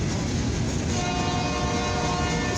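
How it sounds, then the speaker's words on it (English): A CFE eastbound mixed freight and steel train rolls past at close range, a loud continuous rumble with a sustained horn tone over it. "This is a CFE train. This is a mixed freight and steel train."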